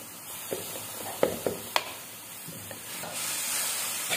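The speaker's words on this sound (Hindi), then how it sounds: "तब तक हम इसको थोड़ा भूनेंगे कि ये अपना कलर चेंज करे" Minced chicken roasting in a pan for samosa filling, with a faint steady sizzle and hiss and a few soft, scattered stirring taps and scrapes against the pan.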